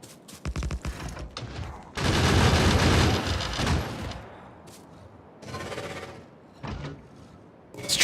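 Automated turrets firing at an alien nest in Factorio, loud sustained bursts of rapid fire with shorter bursts after pauses, alone without talk.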